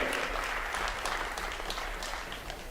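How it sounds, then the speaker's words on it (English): A crowd at a high school tournament championship game applauds both teams, producing a steady, even spread of clapping that carries through the short stretch at moderate level with a low hum underneath. "Let's give a round of applause for both these teams."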